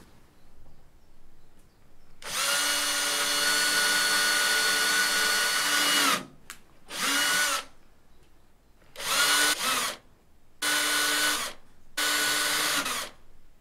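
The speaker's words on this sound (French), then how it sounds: "je marque les 4 emplacements que je vais percer avant de visser ma platine" A power drill bores holes into a ceiling to mount a ceiling fan's mounting plate: one long steady whine, then four shorter bursts with brief pauses between them, close and clear with no talking.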